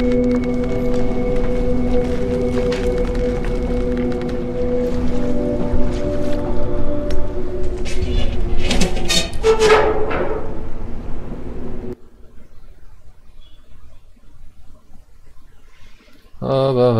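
Submarine in the video game Conarium, a dense watery rumble and churning swish that swells, then cuts to near silence before resuming briefly at the end.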